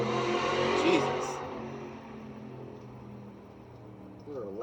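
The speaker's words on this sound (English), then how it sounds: "Those are loud motorcycles." Loud motorcycles roaring past on a road, the engine noise swelling to a peak early and then fading away, with a vehicle rising again at the very end.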